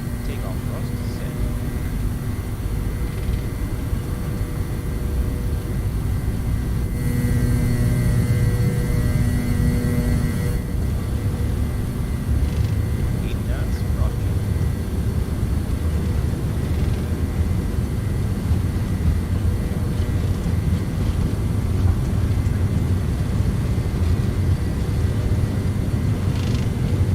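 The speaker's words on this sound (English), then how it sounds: "Alright, and up to takeoff power. Takeoff thrust set." Twin rear-mounted jet engines of an MD-80 airliner in Microsoft Flight Simulator spool up toward takeoff thrust, a steady loud roar and hum that swells slightly partway through, with voices in the cockpit over it.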